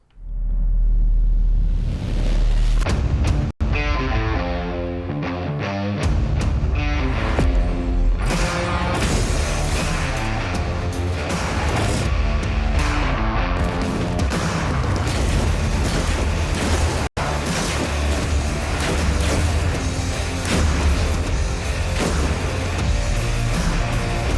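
A Destiny 2 video game weapon trailer plays with loud, dense booming explosions, rumbling impacts and gunfire layered over a continuous score, filling the whole stretch without talking.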